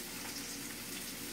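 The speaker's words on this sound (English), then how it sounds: "Now we're whisking the grits in on low heat, making sure there are no clumps in there at all." Grits being whisked into a pot of water over low heat, a soft steady sizzling, watery churn that stays close and even throughout with no pauses.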